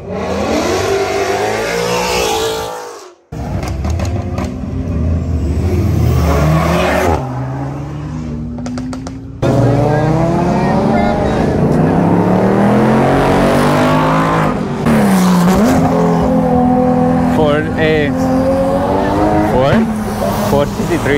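Cars rev hard and drift at a supercar show, engines roaring loudly and continuously with several rising pulls and a brief drop near the start, while people talk over the noise throughout.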